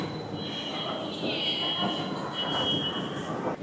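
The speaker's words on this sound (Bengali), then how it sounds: "This is our mono train, suspended mono train." A driverless suspended monorail in China hums steadily along with a sustained high whine and faint wheel squeal, continuous and fairly close from inside the car.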